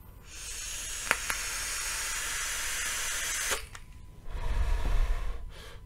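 A long, steady airy hiss as a puff is drawn through a Steam Crave Hadron Mini vaporizer, running about three seconds before stopping abruptly, then a rumbling exhale-like rush.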